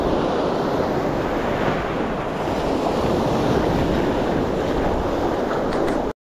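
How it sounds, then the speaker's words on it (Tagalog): A loud, constant roar of big ocean waves mixed with strong wind buffeting the microphone, steady throughout with no distinct breaks. "Ang laki ng alon mga kapit."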